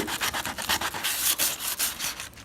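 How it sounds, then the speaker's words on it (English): Rhythmic rasping strokes of a sanding pad rubbing against a wall, steady back-and-forth scrubbing up close with no voices. "When I go to sand the wall now"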